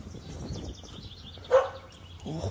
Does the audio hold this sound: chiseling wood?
no